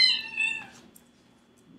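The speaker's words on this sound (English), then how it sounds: "my cat. It's making some noise. My cat and dog are playing." A pet cat meows in a short pair of harmonic calls, fairly close and clear, during play with a dog; a faint low hum sits underneath and a brief rustle follows.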